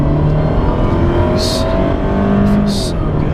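A 1.4-liter turbocharged engine in a 2017 Fiat 124 Spider rumbles deep and loud in a steady, continuous drone, with a couple of brief hissy bursts on top.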